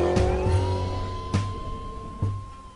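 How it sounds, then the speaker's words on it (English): A Ford Mustang police car, American muscle, revs and accelerates in a chase after motorcycles, with a steady engine tone and sharp bursts of throttle three times across the clip. "I drive a Mustang. It's American muscle. It's built for speed."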